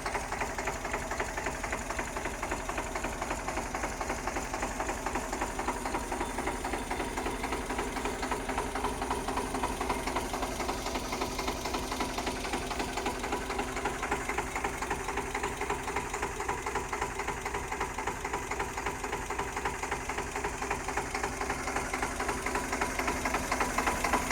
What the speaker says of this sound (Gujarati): Ricardo engine